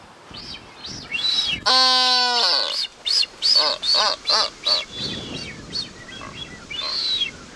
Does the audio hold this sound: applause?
no